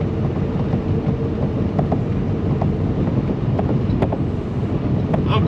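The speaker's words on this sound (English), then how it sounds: "Like, it's dust storms and shit." Wind roars during a dust storm, a loud, constant rushing buffet across the microphone with faint knocks and clicks scattered through it.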